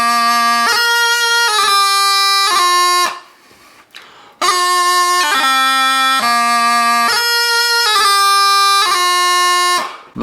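Highland bagpipe playing the opening two bars of the tune The Battle's O'er at a measured, even tempo, with a steady drone under bright, clearly separated melody notes and a short pause partway through.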